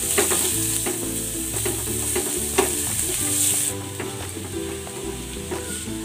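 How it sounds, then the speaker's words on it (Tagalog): Garlic and ginger sauté in hot cooking oil, a steady close sizzle that runs the whole time, with utensil scrapes and clinks as the pan is stirred. "Igisa na natin tong bawang at ang luya."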